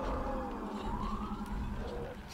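Wailing sirens in the video game Sekiro rise and fall over a dense, rumbling background, several overlapping tones sweeping steadily with no pauses.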